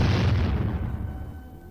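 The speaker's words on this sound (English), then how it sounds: "Later, high-velocity shells are fired at the weld itself." A high-velocity shell strikes a welded steel tank armor plate in a firing test, giving one heavy, close boom that rolls and fades over about two seconds, with no voices.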